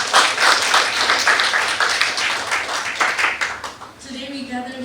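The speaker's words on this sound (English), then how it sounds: "Can I have one big round of applause," A World Tourism Day event audience gives a round of applause, steady clapping that tapers off near the end as a faint voice begins.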